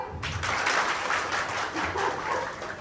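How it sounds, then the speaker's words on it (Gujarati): A group at a Garba dance workshop warm-up claps hands in a steady, fairly loud burst of applause lasting a few seconds, with no talk over it. "તાળી પાડો."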